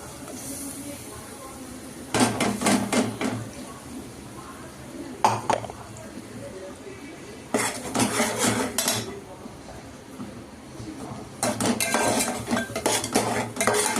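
Spices with coriander powder are stirred in a pan, with bursts of metal spoon scraping and clinking against the pan over a low cooking hiss, in several separate rounds.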